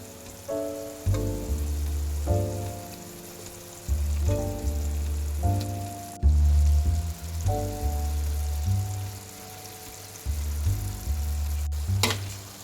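Fried eggs sizzle in a pan of green chilli egg masala curry, a continuous close frying crackle with low rumbling swells, like stirring, recurring every couple of seconds.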